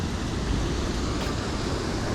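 Loud, steady rushing water roars without a break, a dense broadband wash like a fast current or spillway close by.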